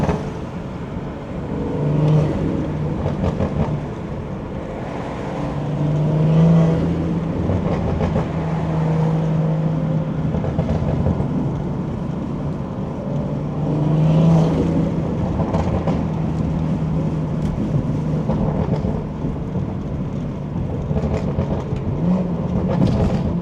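BMW 340i with the B58 engine on the move, a steady low rumble of engine and road noise that swells and eases with throttle, heard continuously from inside the car.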